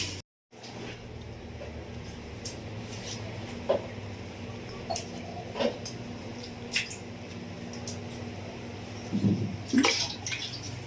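Water splashing and dripping as metal vessels are washed during house cleaning, a steady wet wash with scattered sharp splashes and clinks that grow busier near the end.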